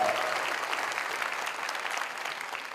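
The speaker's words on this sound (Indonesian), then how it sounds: "Kita beri tepuk tangan untuk mereka yang menyiapkan acara." An audience at a youth festival event applauds the organizers with a dense, steady wash of clapping that holds evenly across the clip, close and fairly loud.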